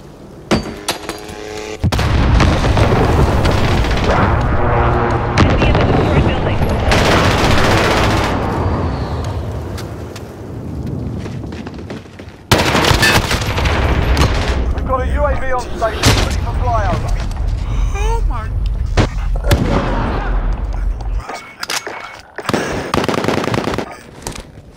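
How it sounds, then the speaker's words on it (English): An airstrike in Modern Warfare lands as a string of loud, heavy explosions and rumbling blasts, with a brief lull midway before more booming impacts, alongside game effects and intermittent voice. "Airstrike, take cover!"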